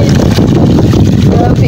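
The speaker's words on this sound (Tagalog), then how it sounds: "Ang lakas ng hangin." Strong wind buffets the microphone outdoors during a cassava harvest, a loud continuous low roar and rumble that fills the whole clip, with voices talking over it.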